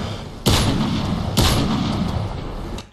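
Two loud, close AS50 sniper rifle shots in a video game, about a second apart, each a sharp crack with a long rumbling tail fading out.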